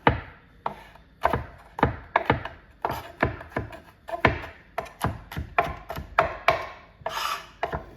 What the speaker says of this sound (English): I'm going to mince the garlic together